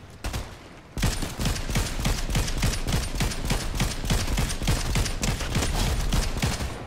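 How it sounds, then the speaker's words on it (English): Rapid gunfire from the video game Fortnite, a dense fusillade of overlapping shots starting after a brief quieter opening and continuing loudly and steadily to the end. "There's someone shooting from the top,"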